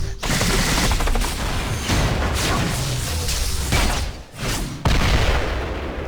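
Sustained rapid gunfire from War Machine's Spitfire in the action game Marvel Heroes, a loud continuous rattle with booming impacts that briefly drops out near the end before resuming at full force.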